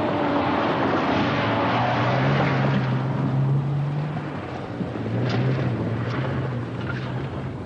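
A 1980 BMW car with four-wheel independent suspension drives over very rough off-road terrain, its engine droning loudly and rising and falling with rumbling, rattling road noise throughout.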